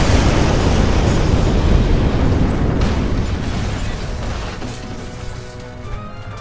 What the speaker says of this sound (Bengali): কাছেই কোথাও একটা ভীষণ বিস্ফোরণের আওয়াজ হলো সঙ্গে সঙ্গে।